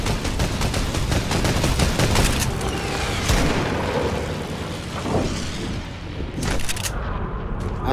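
Rapid bursts of gunfire and booming shots in a mountain battle of a shooting video game, loud and dense at first, then thinning into scattered shots and a few later bursts.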